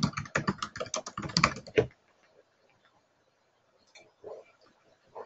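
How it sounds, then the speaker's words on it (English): Quick clattering keystrokes on a computer keyboard, close and steady for about two seconds as a form name is entered in Autodesk software, then a near-silent stretch with a few faint clicks. "All I need to do is click on the template and then just type in the name of my form."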